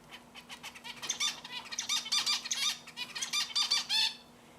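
A finch gives a rapid series of squeaky, squawking calls, close and fairly loud, in quick irregular bursts with a steady faint hum underneath.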